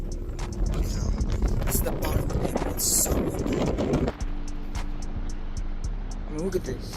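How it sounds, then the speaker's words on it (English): Strong gusty wind at Fontana Dam buffets the microphone with a constant low roar, while a person talks over it throughout. "It's so windy."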